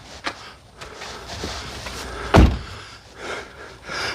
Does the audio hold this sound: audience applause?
no